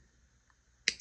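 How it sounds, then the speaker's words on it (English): Cutters snip jewelry wire at a crafting table, giving one sharp close click followed quickly by a softer second click after near silence. "So I'm just going to snip it"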